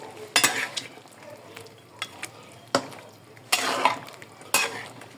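Chicken afritada with spaghetti sauce is stirred in a pot, with several sharp spoon scrapes and clanks against the metal set apart by quieter simmering.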